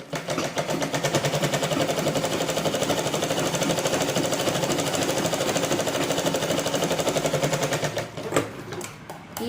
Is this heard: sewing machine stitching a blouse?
yes